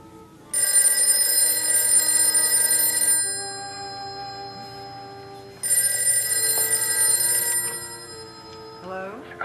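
Old-fashioned telephone bell ringing for an incoming call, two long trilling bursts separated by a pause, loud and close in a quiet room.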